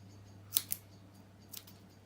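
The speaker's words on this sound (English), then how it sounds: "Why is this scissors so shit?" Scissors snipping the end of a cable for a wiring loom: two quick, sharp clicks close by, then a pause and another pair of fainter snips over a low background hum.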